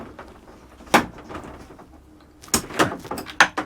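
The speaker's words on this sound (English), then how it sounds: "It's got a bifold door with a" Bifold door of a Bailey Adamo 69-4 caravan being opened, with a few sharp close knocks, clicks and wooden rattles as the panels fold and catch.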